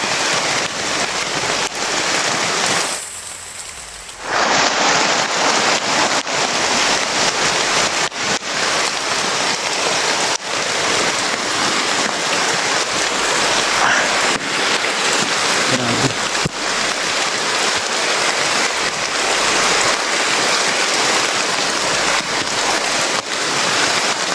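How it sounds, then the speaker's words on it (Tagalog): Heavy rain pours down in a video game, a dense, constant hiss that fills the whole stretch with only a brief dip near the start. "Grabe ang lakas ng ulan."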